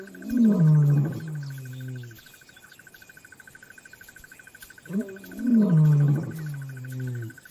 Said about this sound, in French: Leurs rugissements mettent les lionnes et leurs petits en alerte.